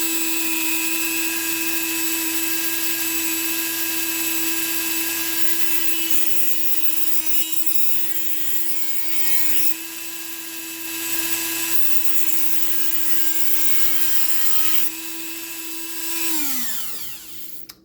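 A high-pitched cutoff wheel whines steadily while slicing through a small metal shock retaining pin for a Kyosho MP9 nitro buggy, its pitch dipping slightly under load before spinning down at the end.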